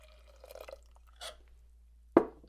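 Water poured into a pot of herbs for an alcohol-free herbal syrup, heard as a few faint splashes and trickles followed by one sharp, louder splash near the end in a quiet room.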